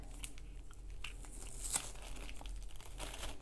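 A taped Halloween envelope is pulled open up close, giving quiet crinkling paper rustles and a few sharp tearing snaps over a low background hum.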